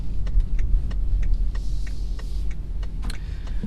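A 2018 BMW X3 30i driving in second gear: a low, steady engine hum heard from inside the cabin, with faint ticks and clicks over it.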